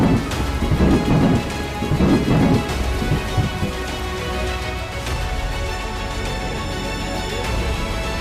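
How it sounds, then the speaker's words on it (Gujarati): Torrential rain pours across Ahmedabad with steady, dense hiss, and deep thunder rumbles strongly in the first few seconds before the downpour continues alone. "અમદાવાદના અલગ અલગ વિસ્તારોમાં મુશળધાર વરસાદ વરસ્યો"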